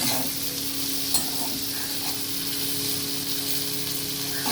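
Spices frying and being stirred in a hot pan, a steady close sizzle with scraping stirs and a light hum underneath, no voices.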